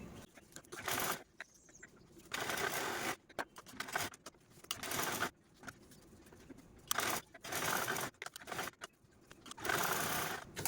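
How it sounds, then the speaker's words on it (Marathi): A sewing machine topstitches a fabric purse in bursts of fast, rattling stitching separated by brief pauses, loud and close throughout. "तर चला आता यावरतीच दापटीक देऊन घेऊ"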